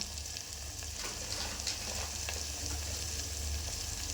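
Tomato and onion sautéing in a pan, with coarse rock salt added, as the tomato softens and mashes down. Steady, close frying sizzle continues without a break, with a few small scraping ticks and no voices.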